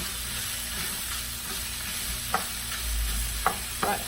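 Longaniza sausage frying with onion and nopalitos in a pan, a steady soft sizzle with a few sharp scrape or pop accents near the end, close and continuous.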